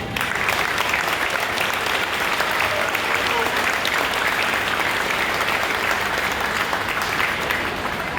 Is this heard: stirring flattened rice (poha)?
no